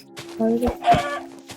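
Chickens in the video game Minecraft give a few short clucks close by, mixed with brief talking and clicks.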